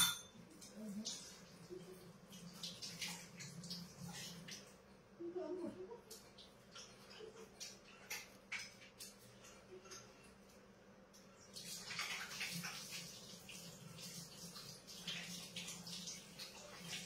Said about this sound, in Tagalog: Tapos maghugas akong kamay.